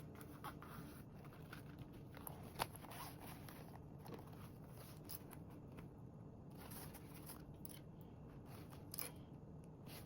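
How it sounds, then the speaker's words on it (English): Scissors snipping the seam allowance corners of a fabric duffle bag panel, a quiet series of irregular small cuts and rustles of handled fabric, close and faint with no talk. "you can go ahead and snip your seam allowance corners"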